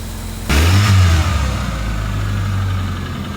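A car engine starts with a sudden roar, revs briefly, then settles into a steady, low idle while warming up, heard close by with no one talking.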